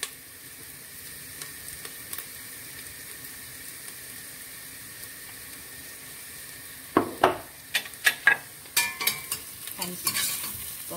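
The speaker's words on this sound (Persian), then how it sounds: "با زردچوبه به هم میزنم" Onions frying in a pot with turmeric, a low steady sizzle that turns into a run of scraping, clattering stirs in the second half, close and fairly loud.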